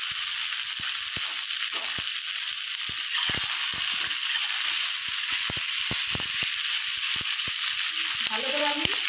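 Garlic, ginger, tomato and spices frying in hot oil, a steady loud sizzle throughout with scattered crackles and pops, and a brief stir near the end.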